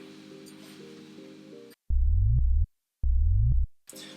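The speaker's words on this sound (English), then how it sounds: "Another thing I failed to mention in the first drop is this Sine Sweep" Two loud synth sine sweeps, each a low rising tone lasting under a second, used as a transition in an electronic track; they come in alone after a stretch of background music that returns afterward.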